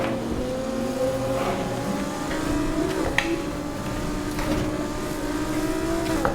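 A car in the Need for Speed racing game, driven on a sim wheel at night, accelerates hard with a steady, loud engine drone whose pitch climbs through gear changes, continuous and close with no talk over it.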